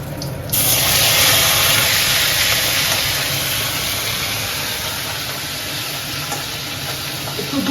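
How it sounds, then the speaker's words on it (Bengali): Hot oil poured slowly over slit green chillies set in flattened rice gives a loud, steady sizzle and hiss that bursts in at once and holds for several seconds, easing slightly toward the end, with no talking. "এইবার এর মধ্যে এই তেলটা আস্তে করে ঢেলে দেবো।"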